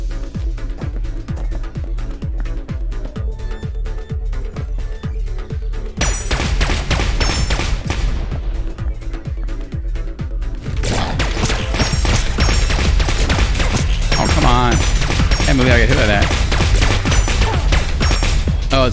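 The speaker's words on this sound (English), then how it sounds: "That's the problem with the exploding guns" Exploding guns fire in the game Neon Abyss as a rapid stream of thumping blasts and crashes, sparse at first and then denser and louder, layered over busy game sounds.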